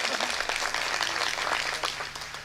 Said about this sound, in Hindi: ताली बजाइए, एनर्जी मिलती है।